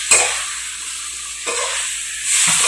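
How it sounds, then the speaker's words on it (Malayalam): Green peas being stirred and sautéed in a pan for a Bengali potato curry, with a steady soft sizzle and a few scraping stirs, close and unaccompanied by talk. "ഒരു പിടി ഗ്രീൻ പീസും ചേർത്ത് നന്നായിട്ട് ഇളക്കി വഴറ്റി"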